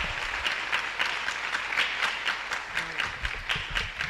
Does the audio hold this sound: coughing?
no